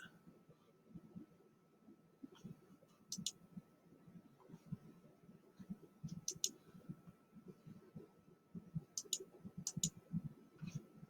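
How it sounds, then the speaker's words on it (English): Computer mouse clicks while navigating the Onshape CAD program, sharp clicks coming in quick pairs spaced several seconds apart, heard close over a low murmur of background talk. "Oh, I should have clicked there."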